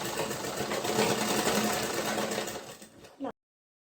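A sewing machine runs steadily as it stitches a rectangular poncho top, a loud continuous motor whirr lasting about three seconds before it slows and stops, with a brief final burst.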